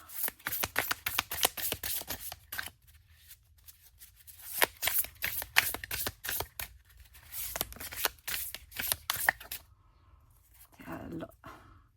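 A deck of tarot cards being shuffled by hand, with rapid riffling and flicking bursts, two short pauses, and a quieter rustle at the end, close and clear.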